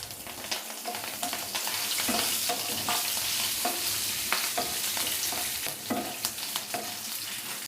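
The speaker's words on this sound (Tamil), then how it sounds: "இது நல்லா வறுந்துச்சு பாருங்கள்" Horse gram and curry leaves dry roasting in a pan for thuvaiyal, with steady close scraping and stirring over a soft continuous sizzle, no voices.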